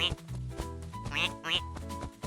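A duck quacks twice in the middle of a narrated farm folktale, with distinct nasal calls over background music and talk.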